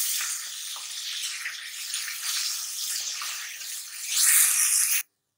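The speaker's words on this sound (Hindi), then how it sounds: "2 मिनट तक इसकी अच्छी तरह बुनाई कर लेंगे।" Afghani mutton sautéed (bhuna) in a pan sizzles steadily, a close hissing frying noise that swells louder near the end, then cuts off abruptly.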